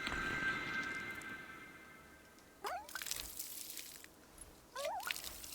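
A watering can pours water onto a plant in the cozy game Wanderstop, soft gurgling splashes in two short bursts after a fading musical chime, quiet and close.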